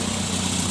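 A Daihatsu Taft Hiline truck engine held at full throttle, loaded while hauling palm fruit, gives a steady, close, low droning roar with no break over the short stretch.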